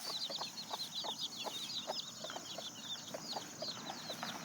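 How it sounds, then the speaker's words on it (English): Chickens and an old rooster on a family farm cluck softly and repeatedly, a busy flock of low clucks and murmurs heard at moderate distance over faint background noise. "And there's the old rooster."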